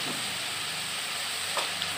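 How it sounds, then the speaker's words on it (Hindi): Tomatoes and mixed vegetables frying in a pan with a little salt for an aloo matar sabzi, giving a steady, even sizzle and hiss close by, with faint stirring clicks near the end. "सबको अच्छे से पहले मैं भूनूंगी और इसमें जाएगा थोड़ी सी नमक"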